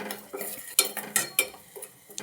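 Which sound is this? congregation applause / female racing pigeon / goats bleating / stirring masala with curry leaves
stirring masala with curry leaves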